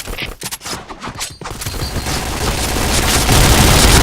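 Grenade blasts and heavy gunfire in the online shooter Point Blank, a loud burst of rapid shots giving way to a dense, roaring explosion that swells and sustains to the end.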